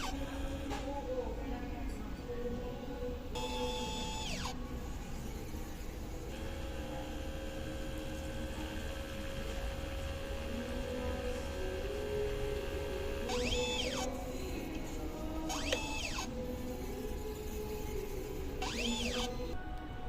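An inkjet printer runs a head-cleaning cycle with its capping station, giving a steady low mechanical whir under constant background noise, broken by three short bursts of higher motor whine as the head assembly moves.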